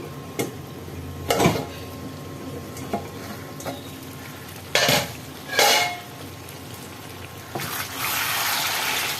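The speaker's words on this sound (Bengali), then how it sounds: "এবার আমি ঢাকা খুলছি" A lid coming off a cooking pot of whole-garlic chicken, heard as a few close clanks of metal on metal with hissing in between, then a steady sizzle swelling at the end.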